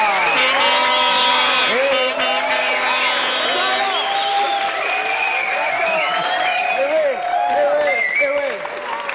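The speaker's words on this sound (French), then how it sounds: "qu'un tonnerre d'applaudissements se fasse entendre jusqu'au rocher de Monaco" A television studio audience gives loud, sustained applause mixed with whoops and shouted cheers, continuous and close for the whole stretch with no pauses.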